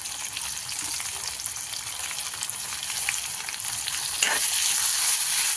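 Chopped onion, tomato and masala frying in oil in a pan for a dry chicken dish. A steady, close, loud sizzle is heard with occasional stirring, growing slightly louder near the end.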